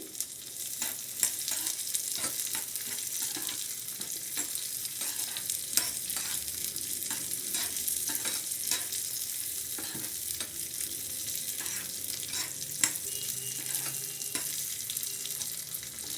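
Chopped cashews, raisins and pistachios fry in a pan, a steady soft sizzle broken by regular scrapes and taps as they are stirred, with no talking.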